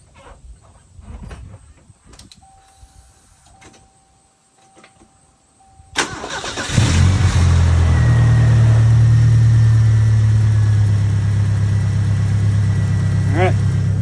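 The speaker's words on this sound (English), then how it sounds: "I'm going to let it idle in neutral" A car engine starts after some quiet clicking and handling noises, then settles into a steady, loud, low idle in neutral on a sloped driveway, with a voice speaking before it starts.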